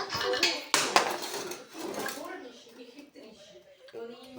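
Metal stands clatter as they are set inside an A24 electro home autoclave, a few sharp clanks early on, with a person talking throughout.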